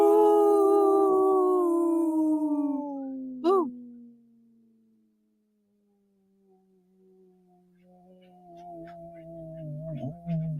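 A person imitates a long wolf howl, a single sustained gliding call that slowly falls in pitch before a brief break, followed by a quieter second rising howl near the end.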